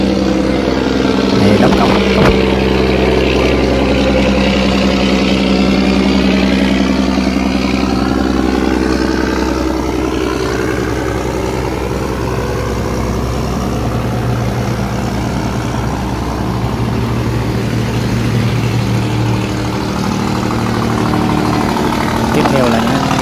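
An iron barge carrying concrete pillars for bridge building chugs along with a steady, loud, low engine drone and a faint water rush, while a voice talks over it throughout.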